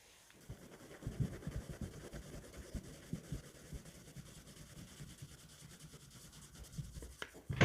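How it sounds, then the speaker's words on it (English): A hand rubs corn flour mix over rolled-out roti dough for homemade baklava, making soft, close brushing and patting strokes in an uneven rhythm, fairly quiet, with no talking. "Now rub some corn flour mix on top of the roti."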